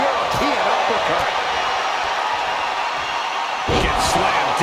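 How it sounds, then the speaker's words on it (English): In the WWE 2K25 video game, a wrestler is slammed down onto the mat. Several heavy thuds land, with the loudest impact near the end, over a steady crowd roar and a commentator talking. "Gets slammed down."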